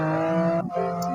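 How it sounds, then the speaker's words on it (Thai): A Turismo sports car engine in GTA San Andreas revs hard and steadily, then drops briefly and picks back up, loud and close with no talk. "เสียงทูริสโมโคตรดุแต่ผมไม่ได้ลงมอดรถนะ"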